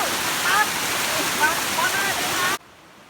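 Steady roar of falling water at Bang Hoi waterfall in Khao Sok, Surat Thani, broadband rushing close by with faint chirps over it, cutting to near silence near the end.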